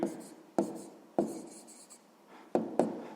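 A pen or pencil writes a geometry answer by hand on paper, close and quiet, in short scratchy strokes with sharp taps as each new mark begins, about five bursts in quick succession.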